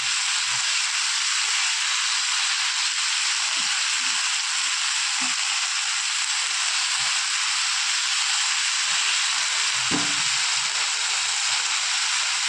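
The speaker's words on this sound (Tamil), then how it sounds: "அந்த கருவு நல்லா வதங்கிடணும்." Dried fish sautéing in a hot pan for a brinjal gravy gives a steady, loud, close sizzle and hiss that continues without a break, with a few faint stirring knocks underneath.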